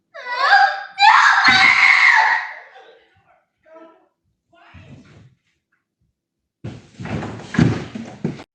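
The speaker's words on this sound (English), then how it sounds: "one night at 1 a.m, he's screaming that the elf moved." A young child screams at night at 1 a.m., loud drawn-out wails at the start followed by quieter gasps, thuds and a later burst of agitated voices.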